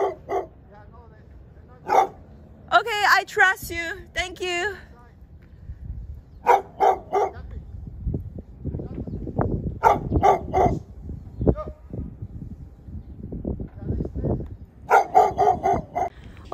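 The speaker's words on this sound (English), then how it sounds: "two dogs pop out of the fence, start barking at us" Sharp barks and yips from more than one dog in bursts, close by, with a person speaking briefly between the outbursts.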